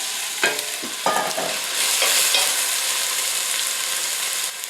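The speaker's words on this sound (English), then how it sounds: "As soon as the oil gets sizzling, I'll throw my onions in." Chopped onions hit hot olive oil in a pan for a Hungarian beef gulyas soup, several sharp sizzling bursts as they drop in, then a steady frying hiss with stirring.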